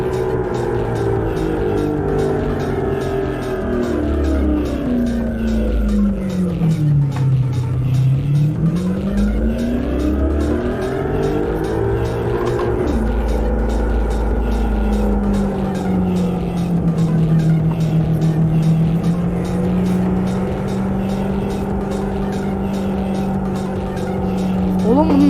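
A car mod in the Euro Truck Simulator 2 game drives steadily, its engine drone rising and falling as it revs and shifts, loud and continuous, with someone talking over it at times.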